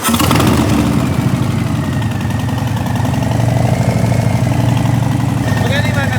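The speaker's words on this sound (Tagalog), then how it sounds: "Mga big bike eh. Harley Davidson oh." A Harley-Davidson big bike idles with a steady, deep, close rumble that holds level throughout, with faint voices in the background.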